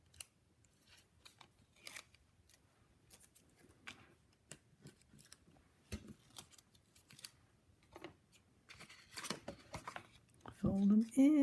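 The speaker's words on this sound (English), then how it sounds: "we're going to chop off these little flaps" Small flaps on cardboard packaging being snipped off with scissors, a series of short crisp cuts spread out over several seconds in a quiet room, with a voice speaking near the end.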